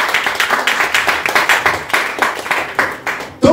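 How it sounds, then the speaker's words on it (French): A church congregation claps in a steady rhythm during a French-language sermon, loud close hand claps repeating for several seconds with a louder sound at the end. "Acclame pour le Seigneur Jésus."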